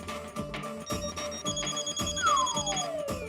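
A mobile phone left behind rings with a bright electronic ringtone, repeating tones and a rising-falling sweep over a steady background music bed, moderately loud and close.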